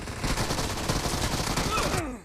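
Dense, sustained gunfire from PUBG Mobile in arena mode, rapid automatic bursts overlapping without pause, loud and close, cutting off abruptly near the end.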